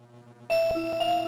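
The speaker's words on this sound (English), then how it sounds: "What was this one? Silver bell?" A silver bell in Martian Gothic Unification rings once with a clear, sustained chime that holds steady and then shifts to a lower ringing tone.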